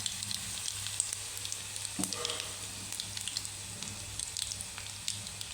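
Garlic sizzles and fries steadily in hot oil with mustard seeds in a pan, cooking a cabbage dish, a soft continuous crackle with a light stir near the middle.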